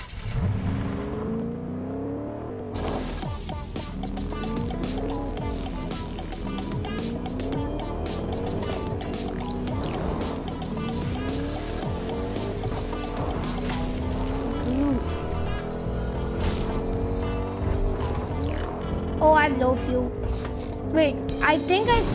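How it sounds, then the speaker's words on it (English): Car engine in Fortnite, a steady revving drone with shifting pitch as the vehicle drives, loud and continuous under busy game sounds and music, with a player talking over it. "I didn't even want to drive this car for long"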